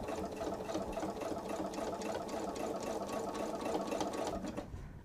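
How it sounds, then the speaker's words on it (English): A sewing machine stitches fabric for a wallet, a steady, close whirring hum with rapid needle pulses running continuously before easing off at the very end. "I can sew from this side and I can still get my 1/4 inch because it's over here on this side of the foot."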